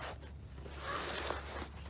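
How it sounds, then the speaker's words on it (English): Back-pocket zipper on a Six Moon Designs ePouch being drawn open, a quiet close scratchy rasp lasting a couple of seconds. "is another zipper,"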